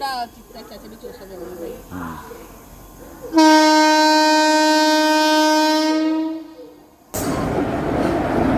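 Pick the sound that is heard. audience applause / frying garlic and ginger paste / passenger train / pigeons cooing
passenger train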